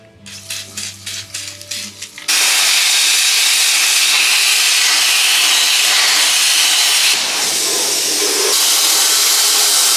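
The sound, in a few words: spraying PB Blaster penetrating oil on bolts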